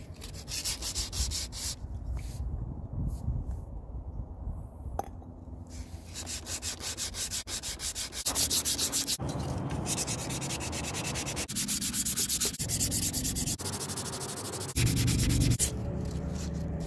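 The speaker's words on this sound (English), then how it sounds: "Running my sandpaper this way down that edge or across this way" Sandpaper rubbing along the edge of a vintage hatchet head during restoration, a steady rasping scrape in repeated strokes, close and loud, with brief pauses between passes and no talking.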